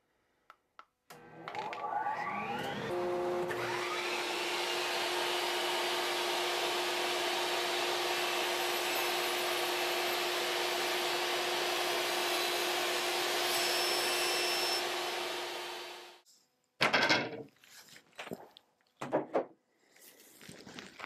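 A power saw with a fence rips through wood for a desk repair, a loud steady whining drone lasting about fifteen seconds, then cutting off, followed by a few sharp knocks and handling noises.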